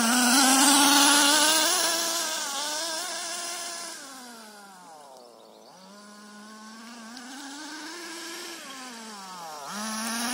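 An HPI Nitro MT RC truck's nitro engine screams at full throttle, its loud, buzzy whine rising and falling in pitch as it revs, dipping around mid-clip and climbing again, with no voices.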